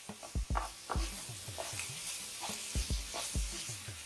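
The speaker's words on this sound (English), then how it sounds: "And just stir everything together." Ground turkey sizzles in a skillet as a utensil stirs it, giving a series of close knocks and scrapes over a faint frying hiss, with no voices.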